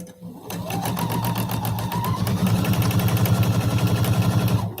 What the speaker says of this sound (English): This piece that's in my machine will hold my threads, and I will sew this other side.